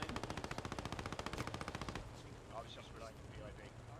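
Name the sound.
machine gun fire in the video game Post Scriptum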